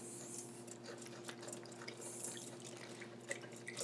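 Cold tap water runs into a bowl of cornstarch, a steady close trickle and splash of a couple tablespoons poured in a kitchen.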